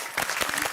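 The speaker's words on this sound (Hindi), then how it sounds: "जोरदार तालियां दीजिए अपने लिए।" Loud applause from a seated group at the close of a three-day fitness camp in Gokuldham society, dense steady clapping filling the short moment with no voices on top.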